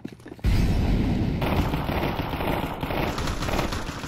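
Gunfire in Counter-Strike 2, a sudden loud onset of rapid, continuous automatic shots and booming reports that carry on densely after a short quieter lead-in.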